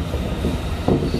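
A Chiyoda Line subway train running through a tunnel, a steady loud rumble and roar heard from inside the car with a brief rattling bump near the end, no voices.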